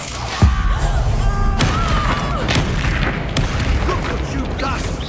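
Spell explosions from the video game Hogwarts Legacy: loud booms, bangs and crashes in quick succession, with one sharp blast early on, over continuous rumbling game effects and a voice calling out between them.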